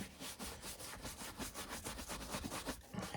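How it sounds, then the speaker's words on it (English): A polish brush sweeps briskly back and forth over leather Chelsea boots in quick, even strokes, a close, rhythmic bristly scrubbing with no voices. "you try to just get as good a brushing as you can"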